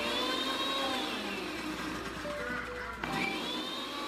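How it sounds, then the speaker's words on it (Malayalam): Kitchen mixer whirring steadily as more oil is blended into homemade mayonnaise, a loud continuous motor whine with shifting pitch and a brief dip near the end before resuming. "കുറച്ചുകൂടി ഓയിൽ ഒഴിച്ച് ഒന്നുകൂടി അടിച്ചു കൊടുക്കാം."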